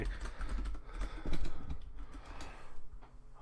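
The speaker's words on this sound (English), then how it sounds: "I hope you enjoyed the sound of my keyboard, by the way." Rapid, uneven clicking of keys being typed on a computer keyboard, close up, in bursts with short pauses.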